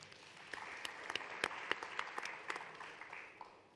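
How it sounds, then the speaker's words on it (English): Sparse, scattered clapping from a small audience at an Africa investment forum greets a speaker, a dozen or so distinct, faint hand claps spread unevenly over a few seconds. "can I give him a round of applause also?"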